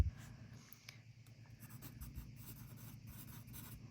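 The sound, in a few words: pencil writing on smooth paper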